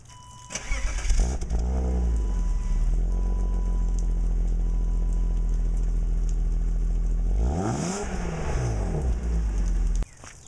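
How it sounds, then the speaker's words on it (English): A BMW E36 with its original exhaust starting up: the starter cranks, the engine catches and settles into a steady idle, then revs up and back down once before being switched off, loud and close. "I'm going to start the car and we're going to listen to the original exhaust note"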